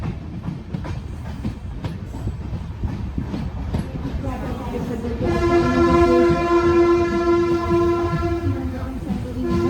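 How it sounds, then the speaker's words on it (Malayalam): An Amrit Bharat Express train rumbles and clatters close by arriving at Ernakulam Town station, then a loud sustained horn blares over the rolling noise for the last several seconds. "നമ്മുടെ അമൃത് ഭാരത് എറണാകുളം ടൗണിലേക്ക് വന്ന് കയറിക്കൊണ്ടിരിക്കുകയാണ്."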